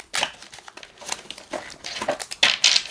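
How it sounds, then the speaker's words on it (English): Tarot cards being shuffled by hand give a quick series of papery riffles and slides, close and fairly loud, in uneven bursts with brief pauses between them. "One more shuffle."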